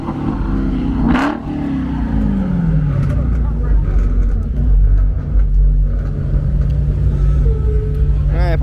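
An SRT car revs hard at a car meet, a loud, close engine rumble that rises and swells and then holds a steady heavy drone, with people talking and shouting over it.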